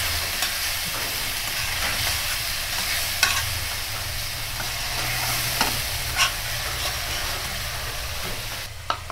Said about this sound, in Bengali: তেলের মধ্যে প্রথমে পেঁয়াজ, তারপরে আদা রসুনের পেস্ট